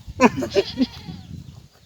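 A goat bleats in a few quick, wavering cries close by, followed by a low murmur of background noise.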